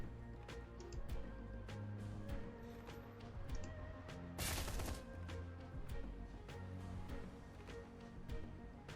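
Gunfire in the Shadowrun: Hong Kong game, heard as scattered sharp shots over steady background music, with one louder burst near the middle.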